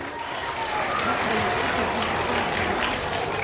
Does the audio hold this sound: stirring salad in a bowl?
no